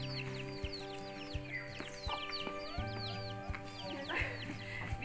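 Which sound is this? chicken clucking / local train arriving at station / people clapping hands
chicken clucking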